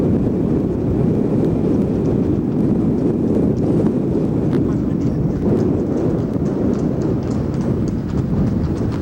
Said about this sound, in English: Horses, taking people on buggy rides.